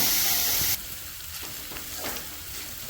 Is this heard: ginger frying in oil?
yes